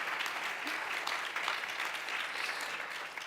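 Applause from an audience at a panel discussion on technology, democracy and the right to repair, a steady even wash of clapping that holds at one level for a few seconds.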